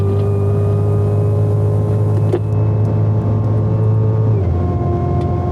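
A 2016 Cadillac CTS-V accelerates down the straight at Circuit of the Americas, its engine holding a loud, steady drone close by that drops in pitch as it shifts near the end.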